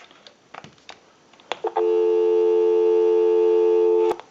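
Steady dial tone on a Western Electric 2500 desk telephone, a continuous loud hum starting after a few soft handling clicks and holding unbroken for over two seconds before cutting off abruptly.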